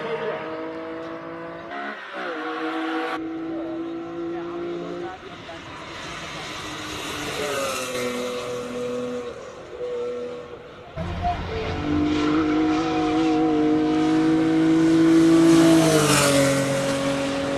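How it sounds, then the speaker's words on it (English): A 5-litre V8 Shelby Cobra recreation, a 2001 build, accelerates at a hill climb. Its engine note rises and falls through gear changes and swells loudly toward the end, with a commentator talking over it. "The V8 Cobra 5 litre in capacity 2001 model. It's a recreation of the classic Shelby Cobra."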